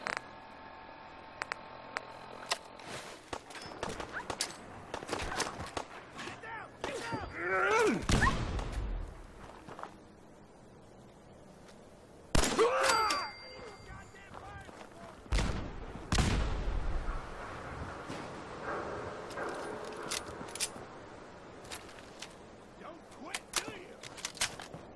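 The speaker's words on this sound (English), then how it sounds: "Grenades, maybe?" Booming grenade blasts in the game Better Living Underground, several heavy, rumbling explosions spaced across the stretch with loud low-end thumps, amid game noise and a steady hum, with occasional talk.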